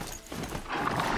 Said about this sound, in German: Und vor allem geht das ziemlich schnell mit dem Pferd.